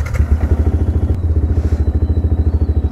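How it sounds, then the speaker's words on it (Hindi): A motorcycle engine runs steadily as a ride begins, heading out toward Bombay Road, with a close, rhythmic thumping pulse that holds an even beat throughout and a faint whine above it. "ठाकुर का नाम लेके राइड शुरू करते हैं।"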